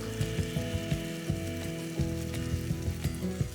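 English muffin French toast sizzling in a frying pan, a steady crackling fry with small irregular pops and spits, close up and without talk.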